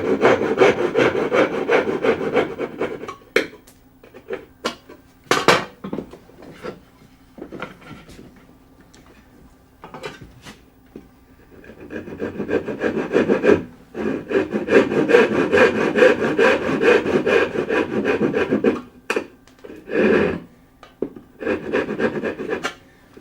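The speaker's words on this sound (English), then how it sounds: "And taking the saw, we just saw those end pieces out." Hand saw cutting dovetail end pieces out of a board clamped in a vise, with long rasping stroke bursts, a pause, then another steady run of close sawing strokes and a few knocks.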